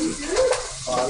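Onions tipped into hot oil in a pan for Guyanese pepperpot, giving a loud, close hiss and crackle that stays steady through the short moment, with a voice in the background.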